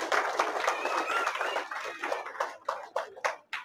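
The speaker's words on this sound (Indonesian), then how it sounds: "Berikan tepuk tangan kepada anak kita tersebut." Audience clapping to honour a child's speech at a religious lecture event, a brief swell of applause that thins out into a few scattered separate claps.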